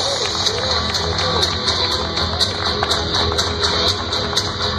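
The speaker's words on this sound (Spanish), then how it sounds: "hay un aplauso grande para el Águila del Desierto que aquí se presenta" A wrestling arena crowd claps and cheers for a luchador's entrance at a Latin American cup bout, a dense rolling wash of applause with rhythmic taps under a Spanish-speaking announcer.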